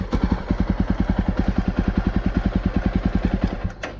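A Java Bobber 42 motorcycle idles with a steady, rapid, thumping exhaust beat, loud and close, running evenly for about four seconds before a brief click near the end.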